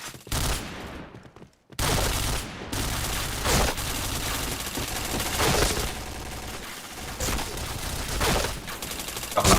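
Dense, loud gunfire in a video game shooter, with sustained rapid bursts and heavy reports that nearly fill the clip, interrupted by one brief quiet gap, with a little speech mixed in.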